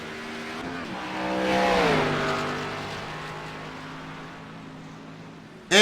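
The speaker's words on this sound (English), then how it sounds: "And his engine just let go." A race car engine at Daytona revs, sweeps upward, then fades and drops away as it lets go, followed by a sudden sharp burst at the very end.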